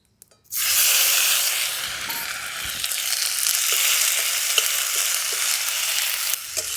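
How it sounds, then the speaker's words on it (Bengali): Chopped tomatoes and five-spice tempering hit hot oil with a sudden loud sizzle after a brief quiet start, then keep up a steady, close hiss of frying with small crackles and stirring scrapes. "ফোড়নে দিয়ে দিচ্ছি 5 ফোড়ন। দিয়ে দিচ্ছি এই কেটে রাখা টমেটো।"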